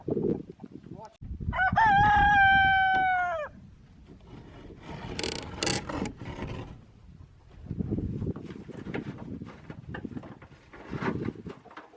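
A rooster crows loudly and close, with a long drawn-out call, followed by scattered clucking and rustling of hens nearby.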